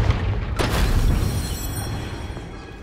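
Spell blast from Confringo in the Hogwarts Legacy game: a sudden booming burst that rolls into a long, fading rumble, with no talk.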